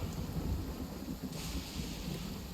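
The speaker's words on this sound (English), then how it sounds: "But bestie, it's raining." Steady rain falls with low, rolling thunder rumbling underneath, fairly quiet and continuous without any talking.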